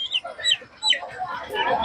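A hen clucks in short, scratchy bursts, with a few rising squawks, close by and fairly loud, at the Pallavaram Friday market.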